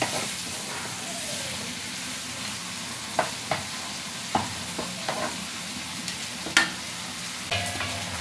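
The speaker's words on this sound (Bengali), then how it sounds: "এটাকে 10 মিনিট ধরে ভালো করে কষিয়ে নিতে হবে" Chicken gizzards and livers sizzle steadily in a pan, with a spatula scraping and clicking against the metal at irregular intervals as the pieces are stirred close by.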